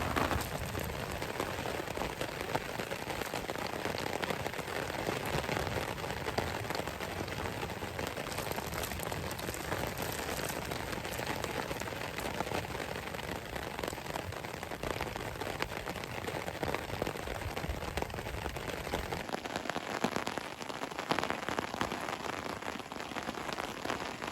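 Steady rain patters on a poncho shelter during an overnight rainstorm, a continuous close hiss of drops with no voices.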